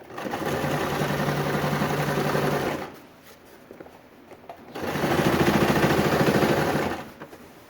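A sewing machine stitches pontoon boat upholstery in two steady, rapid runs of about three seconds each, separated by a short quiet pause; close and loud, with no talking.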